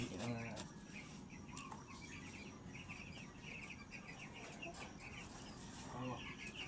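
Chicks cheep in a steady busy chorus while being fed on a poultry farm, with louder clucking from hens and a farm setting's constant background hiss.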